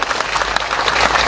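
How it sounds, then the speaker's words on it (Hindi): Applause from a crowd at a stage event welcoming a brigadier, steady dense clapping filling the whole short stretch at a loud, even level. "तालियां बजाओ भाई, ताली बजाओ भाई"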